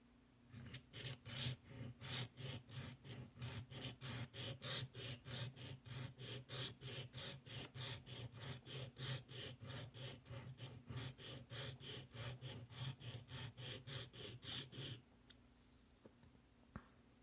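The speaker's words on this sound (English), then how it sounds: "I'm sharpening at way too steep of an angle" A knife scraped repeatedly across a diamond sharpening stone at too steep an angle, a steady train of rough rasping strokes about twice a second, close and loud, ending abruptly with a short quiet tail.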